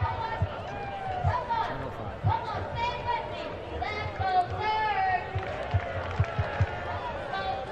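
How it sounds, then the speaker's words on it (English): Stadium crowd at a professional ultimate frisbee game, Minnesota Strike at Philadelphia Surge, a steady murmur of spectators with scattered shouts and claps, voices chattering throughout at moderate distance. "Crowd is picking up."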